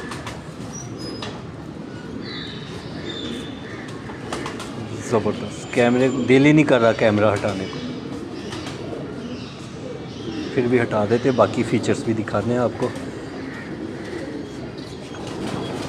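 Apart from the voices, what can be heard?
pigeons cooing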